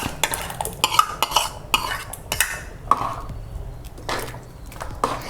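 Cooked lentils are added to a pot with jaggery for a festival vegetable kootu, with a spoon clinking and scraping against the metal pot and some soft squishy stirring in irregular bursts. No one talks.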